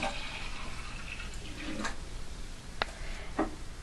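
Homemade kombucha, naturally carbonated from fermentation, pours through a funnel into a jar, giving a faint steady watery trickle with a couple of sharp clinks of glass near the end.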